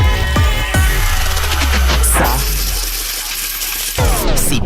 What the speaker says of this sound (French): C'est pas le bruit des cigales, c'est le bruit du cash.